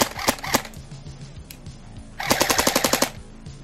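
A KWA Ronin T10 airsoft gun running on a 9.6 volt battery fires 0.30 BBs in quick bursts of sharp, rapid clicks, with a short pause between two strings of shots, close and loud.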